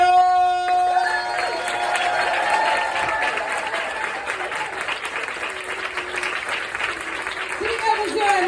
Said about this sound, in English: give a huge round of applause to the one and only Rachel Morton-Young!